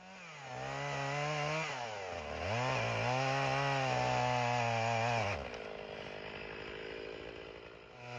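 A chainsaw roars close by at high revs, bogging down under load as it plunge-cuts into a tree, then settling to a steadier lower drone.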